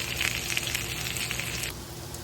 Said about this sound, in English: we're just going to dump in the onions and the peppers. And we'll give them a stir and just keep cooking it down